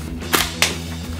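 Nerf Longstrike toy sniper rifle, an older blaster, fires twice in quick succession, each shot a sharp, close snap with a faint hum underneath.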